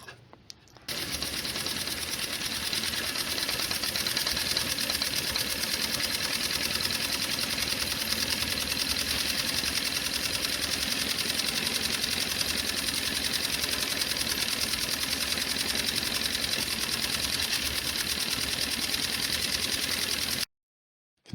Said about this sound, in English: After running a reamer down the cylinder, the movement freed up and the engine now runs.